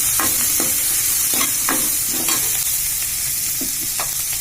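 Tomatoes sautéed with crab for a crab curry, a spoon scraping and stirring in a hot pan in repeated strokes over a steady loud sizzle, no voices.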